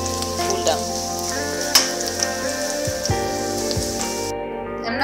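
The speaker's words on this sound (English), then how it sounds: "onions have been frying for around 1 minute now" Onions sizzle and crackle steadily in a hot pan, a close, continuous frying hiss with occasional sharp pops, with a low hum underneath.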